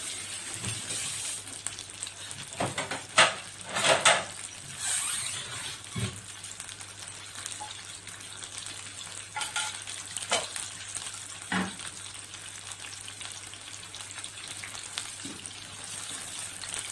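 Food fries in hot oil with a steady close sizzle, punctuated by occasional louder crackles and clinks as pieces are moved about.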